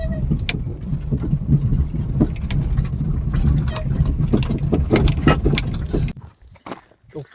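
A vehicle jolts along a rough, uneven village track in the hills of Himachal, its engine droning steadily with bumps and rattles for about six seconds before cutting out, leaving near silence.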